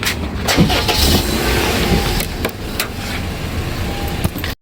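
A car engine starts up in Dubai, with loud, close cranking and thumps that give way to a rough, uneven running rumble before cutting off abruptly, with no talking.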